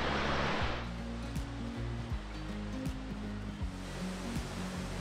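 A steady roar of Tokopah Falls in Sequoia National Park fills the air, broad and constant, with a low rumbling undertone throughout.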